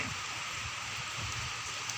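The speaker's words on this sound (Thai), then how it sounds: "ฝนยังตกรินริน ฝนตกรินริน" Light drizzling rain falls in a steady, soft, even hiss with no other sounds standing out.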